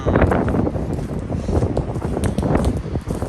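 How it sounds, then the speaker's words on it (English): Strong wind buffets the microphone in a steady low roar with gusty surges throughout, loud and close, with no one speaking, on a walk near the Church of the Savior on Spilled Blood, Russia. "Yeah, it's windy today."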